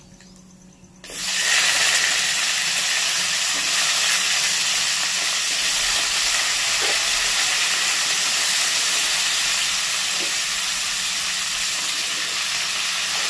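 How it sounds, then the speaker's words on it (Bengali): Three vegetables hit hot oil for a prawn and jackfruit seed dal, bursting into a loud, close sizzle after a second of near quiet and then holding as a steady, dense hiss to the end. "প্রথমে এই 3টে সবজি দিয়ে ভেজে নেব।"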